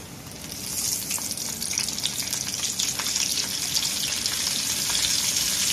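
Shrimp fry in hot oil with a loud, steady, dense sizzle and crackle that swells slightly after the first second and holds, close up, with no talking.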